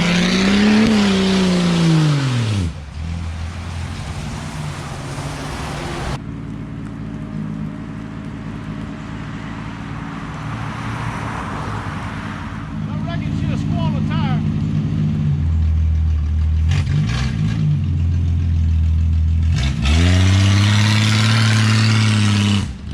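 A rescued, once-abandoned 1962 Ford Falcon Tudor drives along the road. Its engine revs and shifts through several loud accelerations and quieter cruising stretches, close by and continuous, with occasional voices over the running engine.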